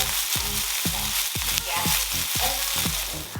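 Beef sizzling in a hot pan as it is stirred for a steak sandwich, a loud constant fry with regular scraping strokes about twice a second, close up and free of talk.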